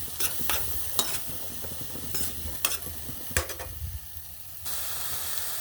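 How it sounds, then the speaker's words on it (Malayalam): Chopped onion and tomato sauté in a pan as a cook prepares a capsicum dish, with steady sizzling broken by several sharp stirring scrapes, then a quieter, even hiss toward the end. "ഇതിലേക്ക് ചെറുതായി അരിഞ്ഞു വെച്ച ഒരു സവാളയും ഒരു തക്കാളിയും കൂടെ ചേർക്കുക"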